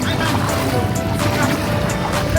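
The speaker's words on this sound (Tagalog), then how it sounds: "Boarding sa bangka." Steady drone of a boat motor on an island-hopping trip in Siargao, mixed with the wash of water, fairly close and continuous, with faint voices in the background.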